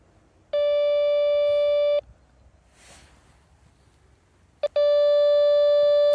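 Steady electronic tone from a Nokta Makro Deep Hunter 3D Pro metal detector searching for a buried pipe, sounding twice in long sustained bursts with a quiet gap between and a brief click before the second.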